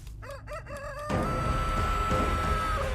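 Chicken in the horror video game Chicken Horror, a run of several sharp rising clucks and crowing calls up close, then a loud sustained game tone and rumble take over.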